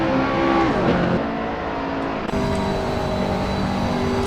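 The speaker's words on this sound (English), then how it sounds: "pick up David Zahn as he navigates through parts of the GP Streck circuit" A race car laps the Nürburgring GP circuit in a racing video game, its engine droning steadily with shifting pitch as it accelerates and changes gear, loud and continuous throughout with no talking.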